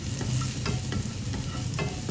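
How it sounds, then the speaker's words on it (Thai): Garlic sizzles steadily in a hot pan while a utensil scrapes and stirs it in short strokes, a close, continuous frying hiss with intermittent clicks, during preparation of a chili sauce for fried mackerel. "ตอนนี้กระเทียมของเราเริ่มหอมแล้วค่ะ เหลืองแล้วนะคะ"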